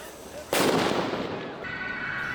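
Fireworks bursting over Berlin on New Year's Eve: a sudden loud blast rings out and then settles into a crackling, hissing wash that fades slowly, with a distant background din behind it.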